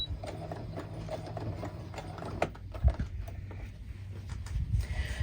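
A sewing machine stitching single-fold binding around a quilt, a steady low mechanical chugging with rapid rhythmic ticks and a few heavier thumps, close and continuous with no talking.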